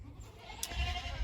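Boer goats in a farm pen give a faint, brief bleat over low rumbling background noise, with no voices present.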